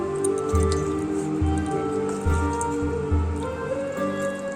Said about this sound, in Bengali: একটু জল ঢেলে দেবো এবারে জল দিয়ে গুলাবো